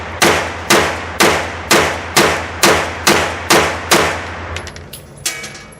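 A home-built AR9 rifle fires eight sharp, evenly spaced shots in a rapid string, each crack ringing briefly before the next, followed by a few fainter clicks and one softer report.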